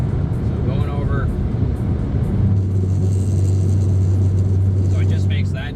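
Car tires drift onto a highway shoulder rumble strip, first as road noise and then as a steady, loud, low droning buzz that holds to the end, with a voice faintly present early on.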